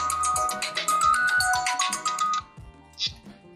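A phone call placed from a smartwatch rings through as a loud, repeating electronic tone pattern, then cuts off into brief quieter sounds, with nobody talking.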